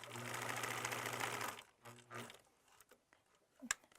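A sewing machine runs a steady burst stitching a pillowcase seam for about a second and a half, then a shorter second run, followed by quiet fabric handling and a sharp click.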